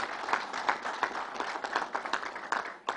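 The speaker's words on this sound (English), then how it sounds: "Let's give Matty a round of applause." A crowd at a governor's announcement at Belmont Park applauds, a fairly quiet, somewhat distant round of clapping with a loose rhythmic pulse from individual hands and no voices on top.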